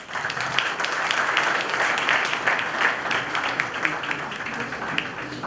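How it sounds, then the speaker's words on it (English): An audience at a business conclave breaks into sustained applause to welcome a speaker, a dense, steady wash of many hands clapping that holds at an even loudness throughout with no voices over it. "Please welcome him with a round of applause."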